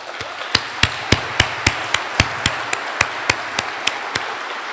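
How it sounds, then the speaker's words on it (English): Clapping welcomes the team of a new H145 helicopter in Grande Prairie, heard as a steady, evenly spaced run of sharp claps over a soft background hum, close and regular like a few people clapping in rhythm. "A round of applause for all of you."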